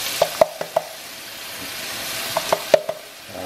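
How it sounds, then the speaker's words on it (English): Canned whole kernel corn fries in a pan with butter and olive oil, giving a steady soft sizzle broken by clusters of sharp, close pops. "let that fry up with the butter and olive oil"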